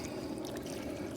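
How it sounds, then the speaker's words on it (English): Liquid being poured into a discada of tongue taco meat seasoned with a dry rub, a short, steady splashing trickle heard close and alone for about a second. "And add more liquid, get the rub off of there and add more liquid to my Discada."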